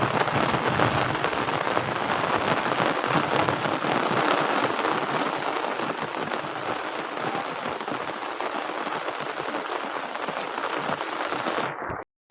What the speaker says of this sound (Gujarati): તો વરસાદ ફૂલ ચાલુ થઈ ગયો જોઈ લો